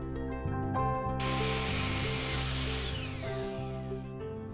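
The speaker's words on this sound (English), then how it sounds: "Now I'm ready to cut the lumber, which will make up the frame." Lumber cut for a mirror frame with a power saw: a steady whining blade cut of a few seconds rises over a background of tonal music, then fades.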